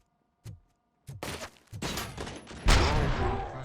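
Gunfire from Robocop: Rogue City, a video game, in a fast burst of close, heavy shots and impacts. Isolated reports come first, then a dense, loud barrage that builds and holds to the end, with a voice faintly mixed underneath.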